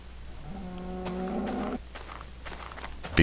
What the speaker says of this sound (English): Well, there's some cows.